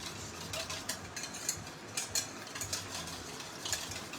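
Salad dressing is stirred in a mason jar, giving a run of scattered clinks and scraping taps, some sharper than others, close and fairly quiet, with no one talking.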